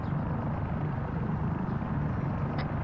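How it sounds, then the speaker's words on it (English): A helicopter hovers in the Arma video game, heard as a steady, low, droning rotor rumble that holds at an even level throughout with no talk. "Heli's hovering."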